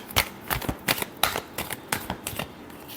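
Tarot cards being shuffled in a quick series of crisp riffling bursts, about ten distinct flicks spaced fairly evenly, close and clear with no voices.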